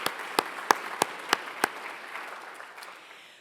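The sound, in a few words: audience applause at a lecture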